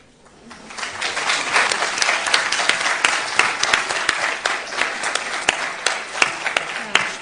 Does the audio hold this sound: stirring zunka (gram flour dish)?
no